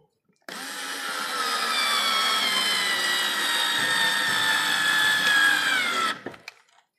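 Daewoo 3.6 V cordless lithium screwdriver runs in one continuous burst of about six seconds, a close, steady motor whine that rises slightly in pitch before cutting off.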